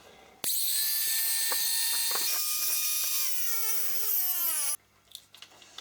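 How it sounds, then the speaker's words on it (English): A new cordless angle grinder spins up with a sudden high whine, runs loud and close for about four seconds with its pitch dipping under load, then cuts off abruptly, leaving quiet handling noise. "So this is my first time using this new cordless grinder"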